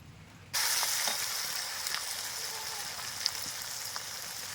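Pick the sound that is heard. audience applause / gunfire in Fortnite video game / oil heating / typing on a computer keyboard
oil heating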